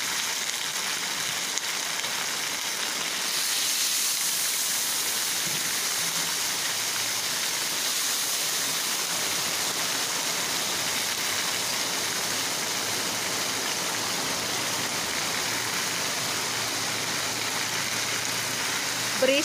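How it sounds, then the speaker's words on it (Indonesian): Heavy rain pours steadily in a home kitchen, a dense broadband hiss that stays loud and unbroken throughout, with no voices over it. "Berisik teman-teman karena hujan ya."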